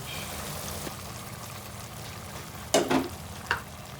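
Mutton goes into a pot of hot oil for biryani, giving a steady low sizzle with a sudden brief splash and a second smaller burst near the end.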